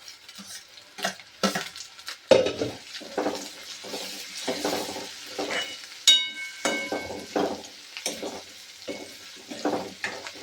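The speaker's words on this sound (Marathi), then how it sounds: "छान परतून घ्यायचं" Mung lentil vadi with kasuri methi and green chilli is sautéed in a pan, giving repeated soft scraping stirs of a spoon over a faint sizzle, close and fairly quiet.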